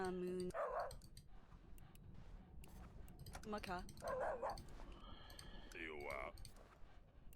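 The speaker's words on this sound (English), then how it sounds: "Dog took a liking to you." A dog barks in the medieval kingdom-management game Yes, Your Grace: Snowfall, a few short yips and barks mixed in with music and game sound effects, with someone talking over it.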